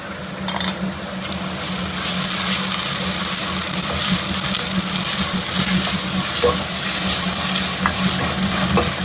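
Onions sautéing in a pan for coconut milk rice, a steady, dense sizzle and crackle of frying, close and continuous throughout with no voices.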